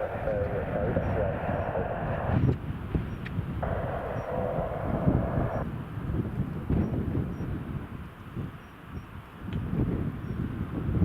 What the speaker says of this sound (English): The Ryanair that's heading straight towards us.